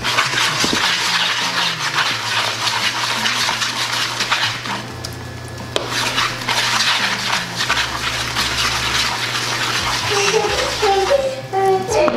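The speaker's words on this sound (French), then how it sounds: "je vais brasser pendant que tu le verses doucement" Liquid is poured slowly into a bowl in a home kitchen while it is stirred, giving a steady watery trickle with light utensil clinks and a voice in the background.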